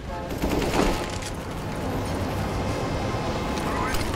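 Rapid automatic gunfire in a first-person shooter video game, a dense rattling burst that carries on steadily under the game's ambient noise, with a voice speaking briefly at the start.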